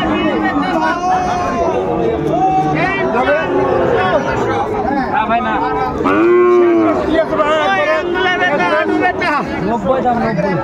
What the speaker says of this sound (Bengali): শাহিওয়ালার ষাঁড় বাচ্চা আমরা দেখছিলাম এখানে, চমৎকার একটি বাচ্চা, সেরা কোয়ালিটির